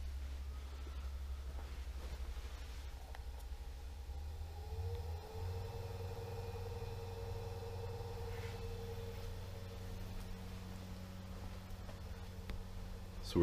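An above-ground pool pump runs at a mid speed of 1100 RPM, giving a steady low hum and whir that shifts slightly in pitch partway through, then holds constant and fairly loud with no talking.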